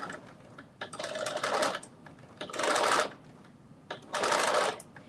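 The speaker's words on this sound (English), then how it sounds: "So I'm just doing that edge stitch in there" A sewing machine runs an edge stitch along a curved seam in three separate bursts of rapid mechanical whirring, each a second or so long, with quiet pauses and small clicks between them.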